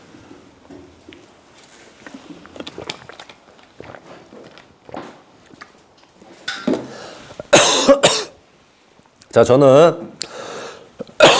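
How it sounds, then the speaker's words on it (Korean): During a church sermon, a man coughs several times, soft at first and then harsh, loud bursts near the microphone, between brief spoken words and rustling movement. "죄송합니다 여러분, 기침이 자꾸 나와서"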